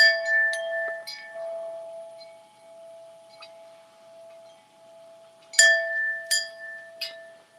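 Outdoor wind chimes at night ring in scattered metallic clinks with long sustained tones, a cluster at the start and another near the end, quiet pauses between.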